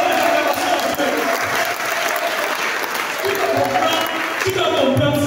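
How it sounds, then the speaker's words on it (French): A church congregation breaks into loud, continuous applause and acclamation, clapping mixed with voices and cheers, with some shouting or speech over the steady crowd noise. "Donne les acclamations."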